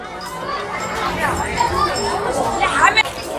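Large crowd of devotees at the Goreshwar Dham temple during Shivratri, a dense continuous murmur of chatter with children's voices mixed in, steady and moderately loud throughout.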